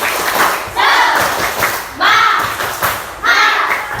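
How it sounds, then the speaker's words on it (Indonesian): A classroom of children performs a rhythmic spirit clap, three loud bursts of unison clapping and thumping about a second apart, with young voices shouting along. "Tepuk semangat."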